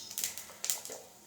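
Cumin and mustard seeds splutter in hot oil while cooking alasanda guggulu, a quick burst of faint, crisp pops and crackles, close and irregular, with no talking.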